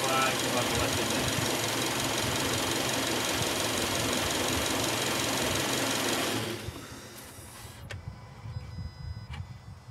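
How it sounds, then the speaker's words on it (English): A Subaru engine idling during an idle relearn procedure, a steady close mechanical clatter and hum that runs evenly for several seconds before dropping off to quieter background sounds. "Start it back up and idle it for another 5 to unmolested minutes."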